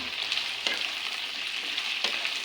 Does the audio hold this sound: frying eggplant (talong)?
yes